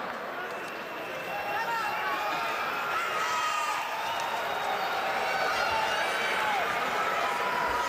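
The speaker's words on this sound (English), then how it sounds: "And the crowd is buzzing." A boxing arena crowd buzzes before an IBF middleweight title fight, a steady dense murmur of many voices holding at an even level throughout with no single voice standing out.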